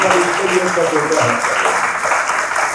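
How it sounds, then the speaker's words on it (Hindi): Audience applause at a motivational talk for Tejendra, a continuous wash of clapping with a voice speaking over it throughout. "तो एक बार तेजेंद्र जी के लिए जोरदार तालियां"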